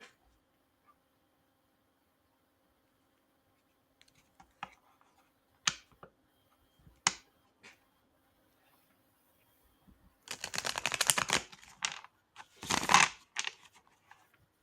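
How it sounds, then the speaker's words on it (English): Playing cards handled and pulled from a deck, with a few scattered soft clicks and taps, then two bursts of crisp rapid riffling and sliding, close and quiet with no talking. "He's gonna pull some cards for us now."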